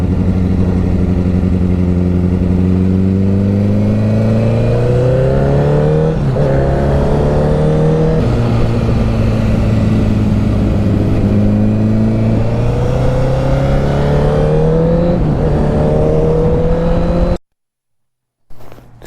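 A motorcycle engine revs hard beneath a bridge, loud and close, its pitch climbing and falling through several sweeping revs that echo under the structure for about seventeen seconds before cutting to silence; a Kawasaki Ninja ZX-12 is mentioned nearby.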